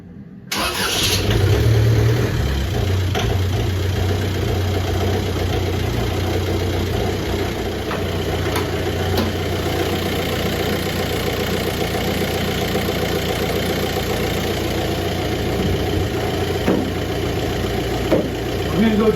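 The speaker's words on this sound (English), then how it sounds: "it's idling right now at about 800 RPM because it's freezing cold." A cold VW TDI diesel engine idles at about 800 RPM, giving a steady low rumble that holds evenly for the whole stretch at close range, with a brief startup burst at the beginning.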